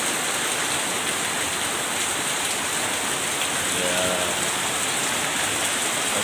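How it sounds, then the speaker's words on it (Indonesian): Heavy rain pours down in a dense, steady roar on a morning trip to school, loud and unbroken, with a brief spoken word barely surfacing. "ini hujan lebat nih"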